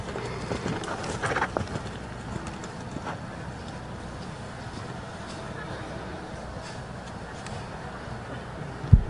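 Horse hooves clip-clop on the footing of a show jumping arena during a 1.20m jumpers round, a steady muffled rhythm set against crowd and arena background noise, with an announcer's voice heard faintly and a sharp thump near the end.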